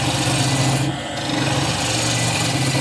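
A sharp gouge cuts a spinning ash wood bowl on a lathe, giving a loud, continuous rasping scrape close by, with a brief dip in the cut near the first second.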